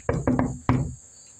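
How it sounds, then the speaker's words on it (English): Three sharp knocks, two in quick succession then a short gap and a third, close and dry with a woody tone, in an old asylum colony building with a faint steady hiss behind. "It's the old knockaroonie again."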